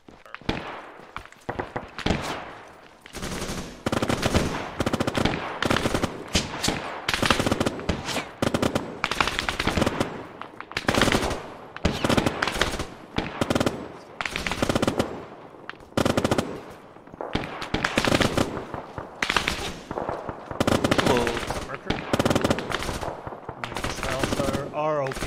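Sustained machine gun fire in a Battle of Salerno (Operation Avalanche) fight, loud and close, coming in rapid repeated bursts with short gaps over about 25 seconds, with occasional voices partly under the shooting.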